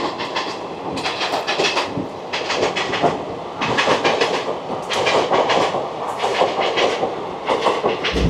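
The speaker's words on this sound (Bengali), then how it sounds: "আমাদের ট্রেন ছেড়ে দিল নলহাটি জংশন, পরবর্তী স্টেশন রামপুরহাট জংশন" A passenger train pulls out of Nalhati Junction bound for Rampurhat Junction, its wheels beating out a steady, rhythmic clickety-clack over the rail joints in repeated bursts, heard close from on board with a continuous rumble underneath.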